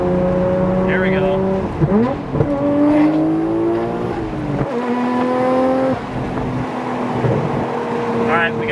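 Nissan Skyline GT-R R33 V-Spec with a Tomei titanium exhaust pulling through the gears, loud rising engine tones dropping at each shift, heard from inside the car with brief voices.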